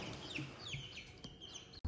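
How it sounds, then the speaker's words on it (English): Chickens cluck and chirp repeatedly in short bursts, close by, over a constant background hiss. "I gotta get the chickens out before I go to work."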